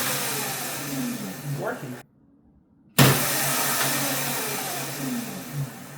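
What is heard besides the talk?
MX350 electric scooter motor spinning wheel via throttle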